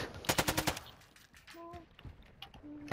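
A quick burst of rapid automatic gunfire in a multiplayer video game, about six sharp shots close together, followed by quieter game sounds and faint tones.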